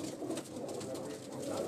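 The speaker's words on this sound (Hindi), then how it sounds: "ये हमारा शौक वाला कबूतर है" A pet pigeon on a rooftop coos softly and steadily at a distance, under faint background murmur and ambient noise.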